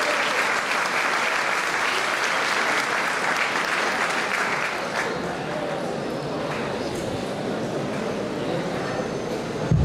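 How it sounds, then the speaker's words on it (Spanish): An audience applauds at a school oratory contest honoring a national hero, sustained dense clapping from a crowd in a hall, loud and steady for about ten seconds without breaking. "alcalde, el doctor Francisco Salvador Iresi, para quien pido un fuerte y caluroso aplauso."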